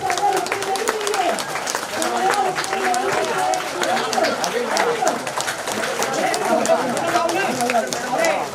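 An audience at a school ceremony claps hard and without stopping, a dense, even patter of many hands, with people chatting and some voices mixed in.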